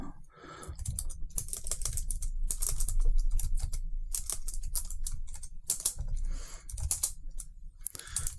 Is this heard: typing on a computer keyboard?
yes